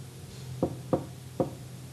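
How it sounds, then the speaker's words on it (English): Three soft knocks sound on a front door at uneven spacing, quiet and slightly distant over a steady low hum. "Mr. Cream heard a quiet little knock at the front door."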